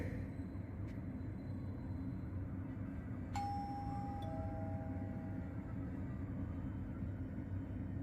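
Apartment doorbell in the video game Fahrenheit Indigo Prophecy, a single clear electronic ding-dong chime, faint and a little distant, sounding once over a low background hum.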